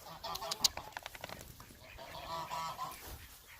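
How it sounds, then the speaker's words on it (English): Farmyard ducks give loud honking quacks in a quick cluster near the start, followed by softer calls and faint background clucking from other fowl, no speech. "We got ducks over here."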